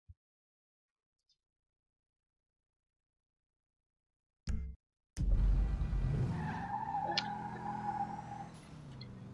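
Car in GTA V on PS3 pulls away with a loud, sustained engine roar and a brief tire screech after several seconds of near-silence broken only by a couple of short clunks.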